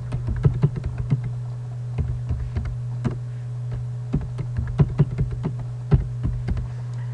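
Quick, irregular keystrokes tap on a computer keyboard while a username and password are entered, the crisp clicks close and clear over a steady low electrical hum.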